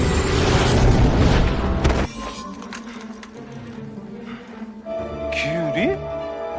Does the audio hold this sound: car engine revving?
no